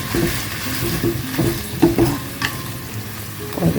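Vegetables stir-fried in a pan for a Chinese-style dish, with garlic mentioned, give a steady sizzle and repeated scraping stirs of the spatula, close and moderately loud, with no talking.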